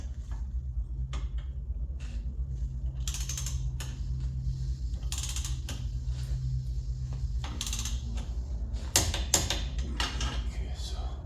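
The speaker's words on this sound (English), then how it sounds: "And I'm gonna have to torque these separately too." Ratchet wrench clicking in short intermittent bursts as lift kit bolts are torqued on a 2011 Chevy Avalanche during a Rough Country 7.5-inch lift install, close and moderately loud over a steady low hum.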